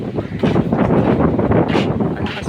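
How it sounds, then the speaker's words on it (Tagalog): Strong wind sweeps across rice fields and buffets the microphone in a loud, blustery roar that surges and dips continuously, with no clear speech on top. "Ang lakas po ng hangin."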